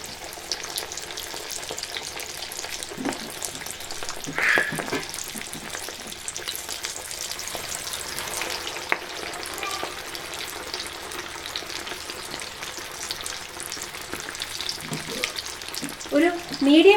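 Chicken pieces for KFC-style chicken deep frying in hot oil over a medium flame, a steady close bubbling sizzle with a few scattered clinks and pops.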